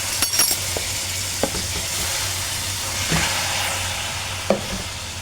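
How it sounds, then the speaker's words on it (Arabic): Chicken is stir-fried with caramelized onions in a pot, giving a continuous loud sizzle and hiss, with occasional scraping and clinking of a stirring utensil against the pot. "اديها بقى تقليبه او تشويحه."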